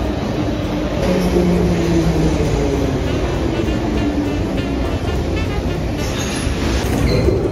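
A metro train in Russia rumbles steadily through a station, with faint wheel squeal and a continuous mechanical roar throughout.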